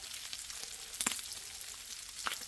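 Bacon frying in a pan for fried rice, rendering its fat: a soft, steady sizzle and crackle with a couple of brief sharper pops, heard alone without talk.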